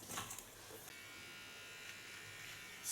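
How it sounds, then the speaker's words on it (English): A small electric hair clipper buzzes faintly and steadily while trimming the contour line of an ultra-short haircut, close by and alone. "do the contour with a small clipper"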